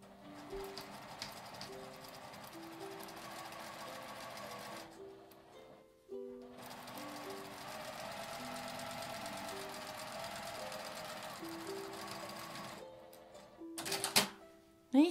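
A domestic sewing machine stitches a seam in thin fabric for an unlined drawstring pouch, running in rapid whirring bursts with brief pauses between them, close and steady, with a few clicks and handling knocks near the end.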